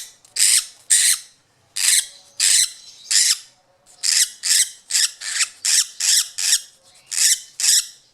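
A file rasps against a lovebird's overgrown beak in about fourteen steady, close, loud scraping strokes with short pauses between them.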